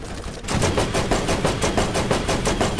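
Rapid automatic gunfire in the shooter game Borderlands, a dense run of evenly spaced shots starting abruptly and continuing loud and close throughout, with no speech.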